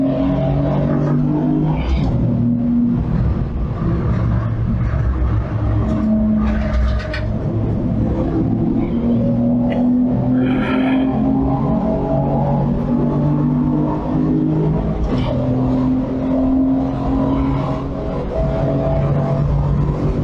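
Race car engines at a 750mc Roadsports race at Snetterton, with Lotus Elises and an MX-5 on track, roar continuously and loudly, rising and falling in pitch as cars accelerate and pass, with no talking.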